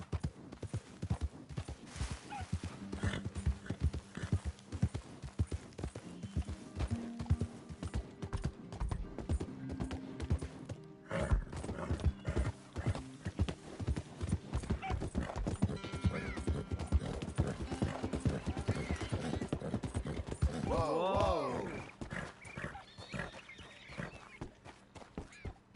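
Horse hooves pound in Red Dead Redemption 2, a fast, continuous clip-clop of galloping that carries on throughout, with a brief whinny-like sound near the end.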